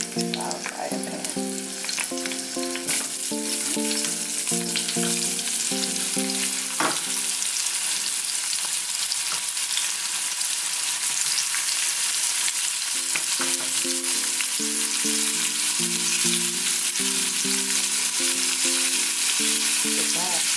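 Shrimp fry and sizzle in a frying pan with a steady, close crackle that runs the whole time, while harmonic music plays in the background.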